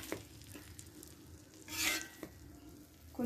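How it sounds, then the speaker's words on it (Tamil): Podi idli sizzles softly in a pan, a quiet frying hiss broken by a few clicks from the utensil and one brief louder burst as the pieces are flipped. "இப்போ இதை அப்படியே வந்து திருப்பி போட்டுடலாம்."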